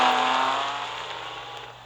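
A 2002 Honda NSX R in the Real Racing 3 game, a loud engine roar that fades steadily as the car pulls away.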